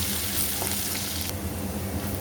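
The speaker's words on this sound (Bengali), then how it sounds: "এখন ভালো করে নাড়াচাড়া করে" Chopped garlic frying in a pan with a bay leaf and dried red chili for a taro-leaf prawn dish, a steady close sizzle with soft stirring scrapes, no voices.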